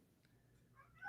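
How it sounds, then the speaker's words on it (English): A house cat meows faintly in the background, one soft rising call near the end over low room noise. "I heard a resounding meow as soon as we popped on screen."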